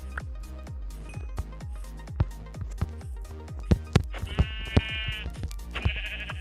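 Minecraft sheep bleat several times over a rhythmic stream of soft thumps and clicks, with sustained electronic-sounding tones near the end.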